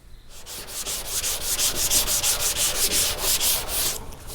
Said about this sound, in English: we'll come back in here and sand this down. We're gonna be using 180, same grit